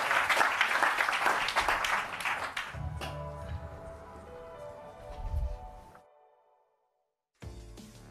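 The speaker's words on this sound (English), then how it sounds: "Round of applause for Just Park." At a live business pitch competition finale, an audience breaks into brisk applause for the JustPark pitch. The clapping is loud for a couple of seconds, then thins and fades into scattered room noise and brief silence.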